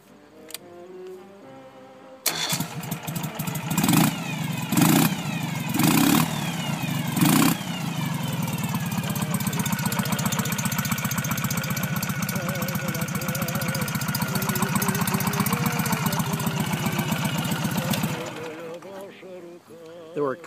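Ural Sahara 2WD limited-edition motorcycle with a European exhaust starting up, several sharp revs then a steady loud idling rumble that cuts off near the end.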